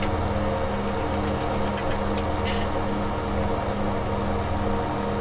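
A 692-horsepower tractor in a farming video game, its engine running at a steady, continuous drone throughout, loud and unbroken, with no talk.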